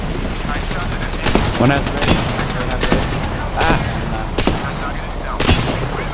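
Rapid bursts of gunfire from Apex Legends crack loud and close in a dense, continuous volley, with heavy shots standing out at irregular intervals; a brief spoken phrase is heard.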